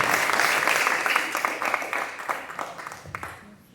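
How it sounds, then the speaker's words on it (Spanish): Congregation applauding loudly in a church service, dense clapping that fades gradually toward the end, with a voice briefly over it. "Denle fuerte aplauso al Señor."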